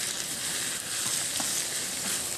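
Chicken wings for spicy adobo with cola sizzle loudly and steadily in a pan, a close, bright hiss with a few soft scraping stirs and no one speaking.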